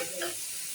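Soaked, washed dried loitta fish (Bombay duck) frying in oil with reddened onions, a short steady sizzle with a brief stir partway through, close and moderately quiet.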